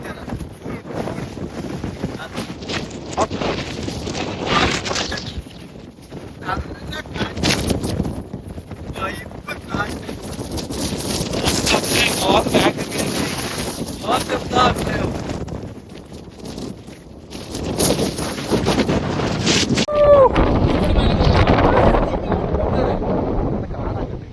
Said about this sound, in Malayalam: അടിപൊളി കാറ്റ്